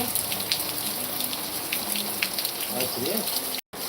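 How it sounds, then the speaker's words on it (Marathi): Monsoon rain pours down in Sangameshwar, Ratnagiri district, in the Konkan, a dense steady hiss of drops pattering on surfaces, fairly loud and unbroken until a brief cut near the end. "कोकणात संगमेश्वरला रत्नागिरी जिल्ह्यात पाऊस कसा पडतोय बघा"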